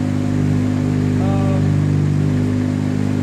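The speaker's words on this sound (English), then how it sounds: "As it starts to warm up, we can hear it picking up the revs a little bit as well." A 1992 GTI engine idles as it warms up, a steady loud rumble whose revs creep slightly higher, with a brief faint whine partway through.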